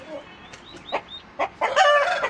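Aseel rooster released outdoors clucks in short sharp calls, then bursts into a loud close crowing-like squawk, with faint chirps in the background.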